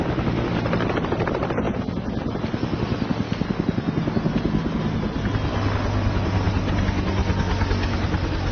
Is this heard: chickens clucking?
no